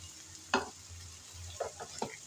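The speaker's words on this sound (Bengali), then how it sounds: "নেড়ে চেড়ে পেঁয়াজের সাথে চিংড়ি ভেজে নেব" Small sea shrimp fry with onions in hot oil with a steady close sizzle. A spatula stirs and scrapes through the pan in a few brief bursts.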